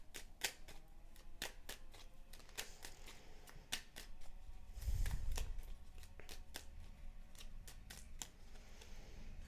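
Fortune cards being shuffled by hand, a steady run of crisp, close flicking and riffling snaps with a brief soft rustle midway, quiet and alone without any talk.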